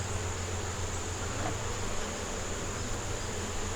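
Honeybees hum steadily at an open backyard hive, a dense, unbroken buzz of many insects close by, with no voices.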